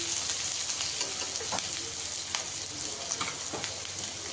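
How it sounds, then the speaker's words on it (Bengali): Chopped onion and garlic fry together in hot oil for a water lily stem curry, giving a steady, close sizzle broken by a few sharp stirring clicks and scrapes. "এবার আমি পেঁয়াজ আর রসুনটা একসঙ্গে দিয়ে দেবো। পেঁয়াজটাকে একটু লাল করে ভেজে নেব।"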